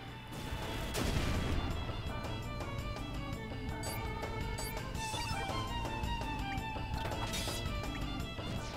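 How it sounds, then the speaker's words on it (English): Explosive game combat from Chrono Cross as a magma bomb attack goes off, with a sharp crash near the start and another burst later, layered over steady battle music and dense effects throughout. "The magma bomb on him."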